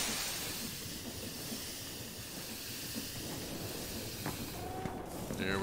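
Minecraft train rolling along its tracks: a steady, broad hissing rumble throughout, with a few faint tonal chimes and clicks near the end.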